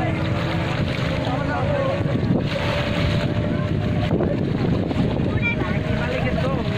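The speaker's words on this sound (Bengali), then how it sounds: "আরেকটি গান বোট স্টার্ট করলো।" A gunboat speeds along the Padma river, its steady engine drone blending with strong wind buffeting the microphone and lapping water, a constant loud roar throughout.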